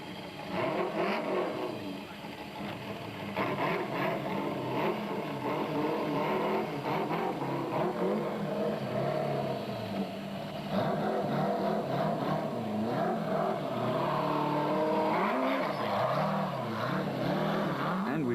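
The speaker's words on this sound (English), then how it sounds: "While Naim Mosaji thought the bridge would be a good time to impress spectators with his car's high limit for revs." A rally car during the Sun City 400 in 2006 holds its engine at high revs, a loud, sustained buzzing drone that wavers and climbs in pitch against a busy outdoor background.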